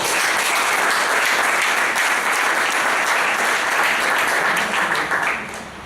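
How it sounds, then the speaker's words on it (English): Applause from a Bangalore Toastmasters Club audience honoring its members: steady, dense clapping from a sizable room that holds evenly, then tapers off near the end. "So give the members a big round of applause."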